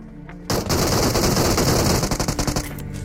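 Rapid automatic gunfire in a battle royale video game during a landing with a random squad: a loud, dense burst of shots starts abruptly after a short quiet lead-in and rattles on, fading slightly near the end.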